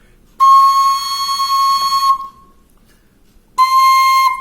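A bright, breathy bamboo bansi flute holds one high steady note for nearly two seconds, then pauses and sounds the note again briefly.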